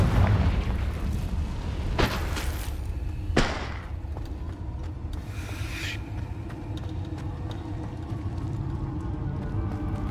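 Confringo blasting spells in Hogwarts Legacy go off as a heavy boom and then several sharp cracking bursts, each fading into a low rumbling game ambience.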